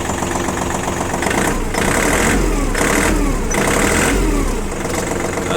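A Kubota L205 mini tractor engine runs loudly up close after starting, a steady chugging diesel idle with slight swells in level and some rattling metal panel vibration.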